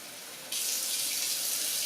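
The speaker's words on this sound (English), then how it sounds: "and now I'm going to add some water." Water pours steadily from a tap into a pot of cauliflower soup, a bright continuous rushing splash that starts abruptly and runs on alone at close range.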